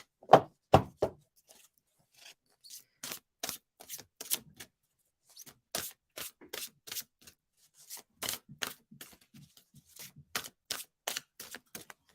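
Tarot cards are shuffled in a series of crisp riffling bursts, close and sharp, repeating in irregular clusters with short silences between.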